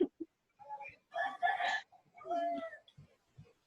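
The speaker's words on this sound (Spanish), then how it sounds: "Bien ese gallo." A rooster crows once at fairly close range, a drawn-out harmonic call framed by a few short clucks and quiet gaps.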